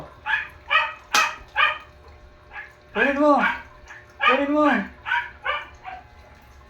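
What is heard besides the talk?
pet dog being trained to fetch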